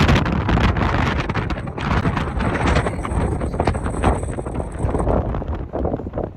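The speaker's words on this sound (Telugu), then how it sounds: "ఈరోజు గాలి ఎంత తీవ్రంగా ఉందంటే" Strong wind buffets the microphone in loud, rumbling gusts that swell and ease throughout, close and continuous.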